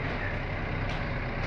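A 2020 Mercedes-Benz Actros 1635 truck with a broken differential crown gear gives off a steady, loud low mechanical drone and grinding hum that runs without a break.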